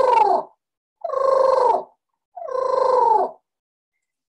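A human voice imitates the rolling, trilled call of a sandhill crane, three distinct bugling calls of about a second each with short pauses between, close and clear, with no other sounds.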